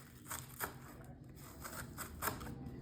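Knife cutting through cabbage, a series of faint, crisp crunchy slices in an irregular rhythm, close and quiet, no voices.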